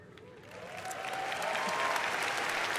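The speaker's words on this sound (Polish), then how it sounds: "To jest ten moment, w którym ludzie klaszczą" Audience applause at BlizzCon, a broad wash of many hands clapping that swells over the first second and then holds steady and loud to the end, with a faint whistle-like tone rising through the crowd noise.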